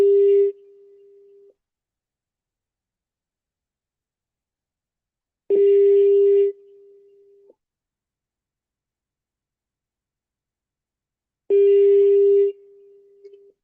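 Telephone busy tone from a call placed to someone already on another line: three separate bursts, each a loud beep followed by a steady tone fading off, spaced about six seconds apart with silence between.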